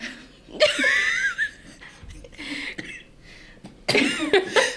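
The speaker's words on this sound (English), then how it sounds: "I'm gonna try not to go into coughing" A person coughs and wheezes in harsh, strained bursts with a breathy, half-laughing quality, close up, pausing briefly before another fit.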